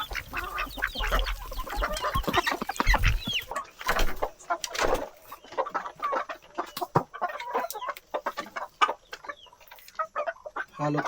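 Chickens on a small farm clucking busily while being fed, a dense, close chorus of overlapping clucks and squawks with some duck-like calls, continuous and lively throughout.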